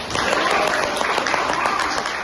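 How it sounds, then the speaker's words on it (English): Applause from a classroom audience after a student teaching demonstration, steady dense clapping that fills the whole short stretch at an even level. "So let's clap our hands for everyone."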